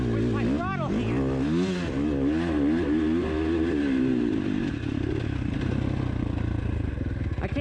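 The engine of a 2019 Husqvarna FC 450 motocross bike under throttle, revving up and down in rising and falling sweeps, then settling into a steadier drone with clattering.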